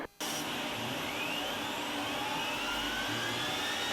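An L-39 Albatros jet engine starting up, a sudden loud onset after a brief quiet moment, then a sustained roaring whine with a faint rising whistle as it spools up, no talking.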